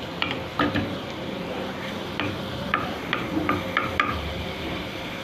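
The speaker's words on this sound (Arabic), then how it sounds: "وحطينا معلقة زيت هنا كده على النار يتشوحوا بس تشويحة صغيرة" A spoonful of oil sautéing in a pan on the stove while being stirred, giving a soft, steady sizzle with intermittent clicks and scrapes of a spoon against the pan.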